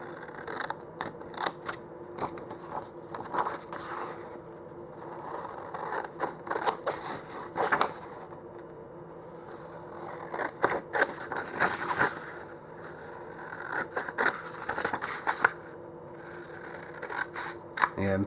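Scissors cutting out a hexagon shape drawn on paper, a long close series of crisp snips and slicing scrapes in an uneven rhythm, broken by short pauses, with no talking.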